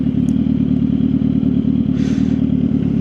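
A Suzuki GSX-R 750 motorcycle is ridden at a steady pace, its engine a constant loud, close drone with wind rush and no pauses.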